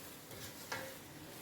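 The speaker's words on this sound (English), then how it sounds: "You have to stir and fry it for more than 5 minutes so that it doesn't burn." Egusi being stir-fried in a pot, a soft continuous scraping and faint sizzle with one brief sharper clink of the spoon partway through, quiet and close.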